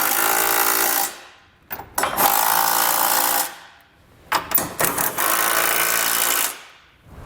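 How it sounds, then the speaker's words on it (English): An impact tool driving a 19 mm socket to snug trailer hitch bolts on a 2022 Toyota, loud bursts of rapid rattling hammering with short gaps between them, close up and without any talking. "we'll come back with a 19 millimeter socket and snug everything down"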